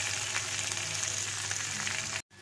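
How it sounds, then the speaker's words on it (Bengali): Okra frying in a pan gives a steady, even sizzle with a soft crackle, close and moderately quiet, running alone without a voice until it cuts off abruptly near the end. "ঢেঁড়সটা অর্ধেক ভাজা ভাজা হয়ে গেছে"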